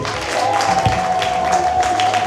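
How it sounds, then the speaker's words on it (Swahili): A church congregation claps and ululates at the inauguration of the EAGT Nsemulwa church in Migazini, with dense, steady applause and a long, high, sustained ululating cry running over it. "Shangilie Bwana kwa makofi na vigelegele"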